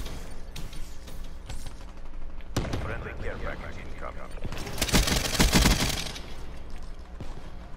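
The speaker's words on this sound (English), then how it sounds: "The only downside about this gun is that it makes too much noise." Rapid automatic gunfire from a weapon in the Black Ops 3 video game, dense bursts of shots mid-clip amid in-game effects, with a player talking over the action.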